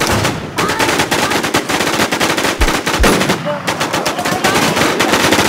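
Rapid automatic gunfire from the video game Infestation, dense bursts of shots running almost without pause alongside a few heavier booms, loud and close, with faint voices underneath.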